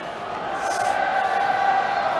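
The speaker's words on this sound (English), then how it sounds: "It's got the French crowd singing now" A French crowd sings together at a women's rugby match, a steady sustained chant filling the stadium, dense and fairly loud throughout.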